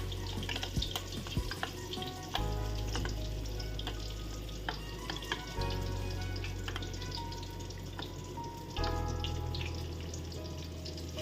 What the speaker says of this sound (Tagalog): Tapos ganyan ang ating pagprito